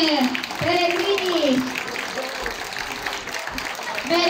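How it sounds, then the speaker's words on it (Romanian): A crowd applauds with steady clapping throughout after a concert, while a voice speaks and sings over the top near the start. "Merită toate aplauzele și mai multe."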